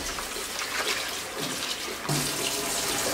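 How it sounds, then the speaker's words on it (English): Tap water runs steadily from a kitchen faucet while raw pork is rinsed for a Caribbean geera pork dish, a close continuous splashing stream that grows heavier partway through, with no talking. "and you rinse out that."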